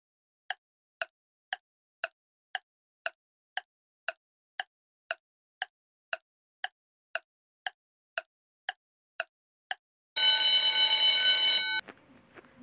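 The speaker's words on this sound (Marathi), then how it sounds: "घड्याळ" An alarm clock rings in a steady run of sharp, evenly spaced beeps, loud and close, followed by a short burst of continuous bright bell ringing before falling quiet.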